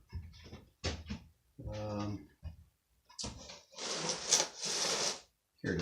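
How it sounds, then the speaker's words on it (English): Wood being lightly sanded by hand with 1500 or 2000 grit sandpaper, soft rasping strokes in short bursts, close by, with some quiet talk among them. "we'll take 1500 or 2000 grit, lightly sand this"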